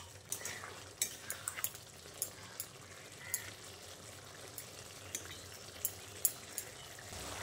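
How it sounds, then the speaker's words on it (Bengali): Potato and pointed gourd curry with sugar and fried spice mix is stirred in a sizzling pan, a utensil clinking and scraping in irregular sharp taps over a low, steady frying hiss. "চিনি আর ভাজা মশলাটা দিয়ে পটল আলুর সঙ্গে ভালো করে নেড়েচেড়ে মিশিয়ে নিচ্ছি।"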